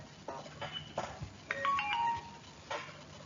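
A teacher's mobile phone rings partway through a recorded maths lesson, playing a melodic ringtone of short repeating tones at moderate volume over faint room noise, with no speech.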